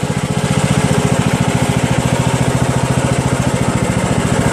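A Craftsman DLS3500 riding lawn tractor with a 20 HP Briggs & Stratton Intek engine drives in a garage, its engine a loud, steady, throbbing drone that continues without a break and without voices.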